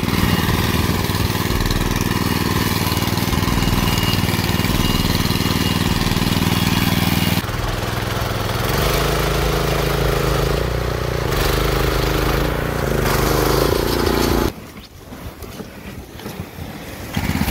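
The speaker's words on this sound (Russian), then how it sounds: "Я вам показал, как мотоблок на гусеницах едет по целому снегу." A walk-behind tractor on tracks churns through deep unbroken snow, its small engine droning loud and steady throughout, dipping and shifting in pitch midway and dropping to a rougher idle near the end, with no talk.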